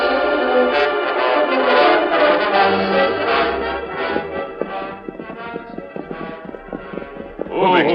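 Horses' hooves clop in a quick, uneven rhythm over a loud orchestral-sounding background, becoming more distinct and percussive in the second half.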